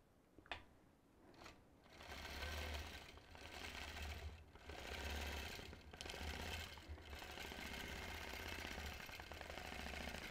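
A quilting sewing machine stitching a straight line with the channel lock engaged, a faint continuous mechanical whir with a low rhythmic hum, running steadily with no voices.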